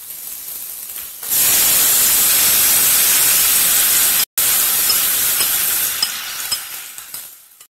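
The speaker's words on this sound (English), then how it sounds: "let the ingredient gently fry for about 5 minutes" Jalapeno pepper, garlic and tomato sizzle loudly in a hot pan, a dense steady frying hiss that starts abruptly, cuts out for an instant and then fades slightly toward the end.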